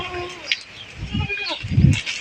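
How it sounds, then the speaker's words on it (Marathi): A pregnant, top-quality goat on a farm gives a short bleat at the start, followed by quieter livestock shuffling and someone talking nearby. "आणि सुंदर अशी शेळी आहे बघा"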